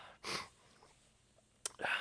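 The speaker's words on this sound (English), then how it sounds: "I'm sneezing away from her" Two sharp, breathy bursts from a person sneezing close by, the first short and forceful, the second a gasp-like blast a moment later, with quiet breathing between.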